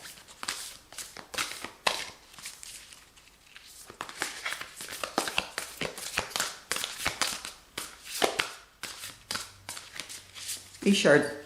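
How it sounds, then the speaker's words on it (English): Repeated crisp riffling and slapping of large tarot cards being shuffled, close up, in quick bursts with short pauses between. "I'll shuffle 2 more times and then I'll take from the bottom."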